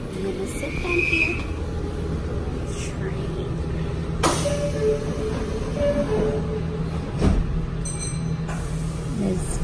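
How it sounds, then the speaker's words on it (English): A local train bound for Nagoya runs with a steady low rumble heard from inside the carriage, with occasional clunks, a brief squeal, and people speaking quietly. "Getting on the train."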